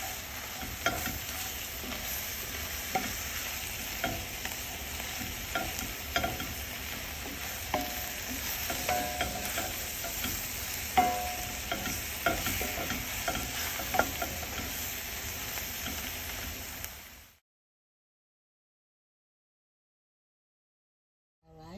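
Shrimp tossed with seafood seasoning and stirred in a hot pan, a continuous close sizzle with light scraping of a utensil, running steadily before stopping abruptly into silence.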